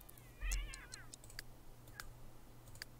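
A cat in The Sims 3 gives one short, fairly loud meow near the start, followed by scattered soft mouse clicks over quiet game background sound.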